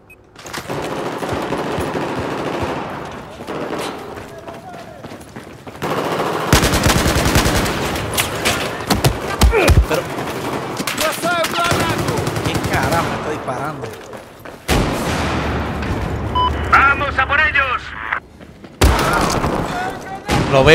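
Battlefield 4 gunfire: repeated machine-gun bursts and single shots, loud and close, broken by brief lulls and heavy booms over about twenty seconds of combat, with someone talking at times.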